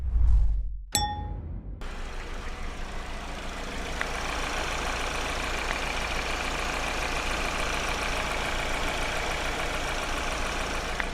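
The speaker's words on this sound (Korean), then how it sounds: "엔진 소리 굉장히 정숙하고 좋았죠" A couple of metallic clanks ring out, then a Genesis G80 car engine idles steadily and smoothly, a low constant hum close by with no talking.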